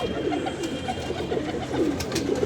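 A pigeon coos in repeated soft, low, rounded calls close by, one after another in a steady rhythm, with no talking.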